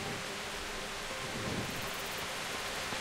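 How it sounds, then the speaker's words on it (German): Steady rain pouring down in the medieval world of the Kingdom Come: Deliverance video game, a dense, even wash of falling water with a low rumble swelling near the middle, heard alone without voices. "Und es regnet auch noch."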